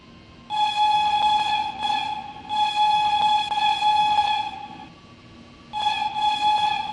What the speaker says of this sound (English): I won't really call this a horn, I just call it like a really weak whistle